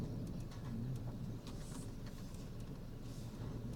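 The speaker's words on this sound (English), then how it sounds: "Man, they're a big swarm of birds." Outdoor bird sounds with cooing and fluttering calls from a flock, steady and moderately distant, with low background rumble and no talking.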